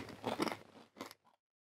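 A crunchy snack of fish and almonds is bitten and chewed up close, giving two short bursts of crisp crunching with a brief quieter crackle after them.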